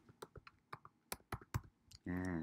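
Computer keyboard typing while coding a PHP and MySQL edit form: a quick run of sharp, irregular clicks and taps, near and distinct, followed by a brief burst of voice at the end.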